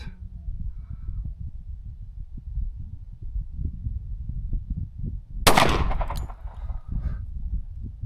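A single sharp gunshot from a 1911 .45 ACP pistol cracks out midway through, loud and close, over a low rumbling wind-buffeted background during load testing.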